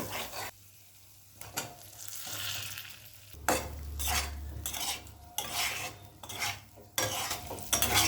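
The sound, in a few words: fried potato and cauliflower sautéed with spices over medium flame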